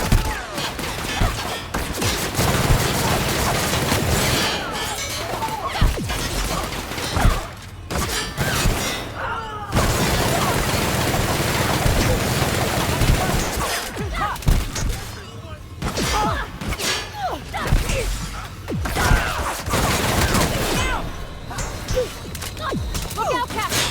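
Sustained gunfire from a firefight in the video game The Outer Worlds, with dense overlapping shots, crashes and thuds that break off briefly a few times before resuming, loud throughout.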